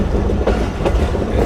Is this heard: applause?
no